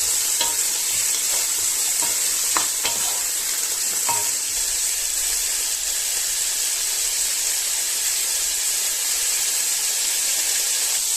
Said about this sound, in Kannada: ನೋಡಿ ಚೆನ್ನಾಗಿ ಮಿಕ್ಸ್ ಮಾಡ್ಕೊಳ್ಳಿ